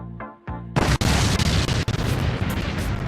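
A sudden loud boom bursts in after a short musical lead-in, then a dense roaring rumble carries on to the end, broken by a couple of sharp cracks. No one speaks over it.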